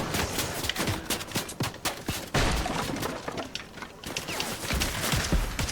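Gunfire in the video game Fortnite: rapid bursts of shots crackle in irregular volleys throughout, some close and sharp, others farther off, with players talking over the action.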